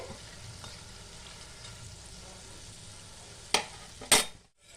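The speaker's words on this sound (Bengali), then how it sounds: "আমি একটু গ্যাসটা কমিয়ে রেখেছি যাতে বোঁদেটা একদম জ্বলে না যায় এটা হালকা হিটেই ভাজতে হবে" Boondi fries gently in oil over low heat, a steady soft close sizzle with a few sharp metallic scrapes of a ladle near the end before it goes briefly quiet.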